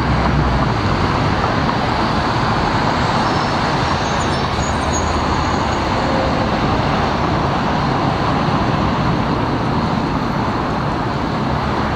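Street traffic rolls along a Beverly Hills road where Japanese and American cars, Porsches and Teslas are driving. The roar of passing vehicles is steady, dense and close for the whole stretch, with no talking.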